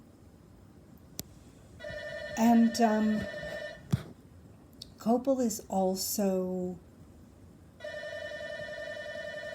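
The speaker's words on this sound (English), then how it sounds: "I forgot to unplug the phone" Landline telephone ringing with a steady electronic trill that starts, stops and resumes, while a person keeps talking over it.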